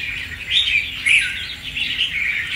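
Red-whiskered bulbuls chirp and warble steadily, bright repeated calls layered close together throughout, fairly loud and near with no voices.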